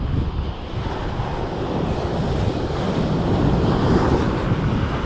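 Steady roar of ocean surf breaking continuously on a beach, with buffeting wind noise across the microphone throughout.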